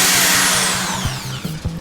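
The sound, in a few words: hammer drill drilling into brick siding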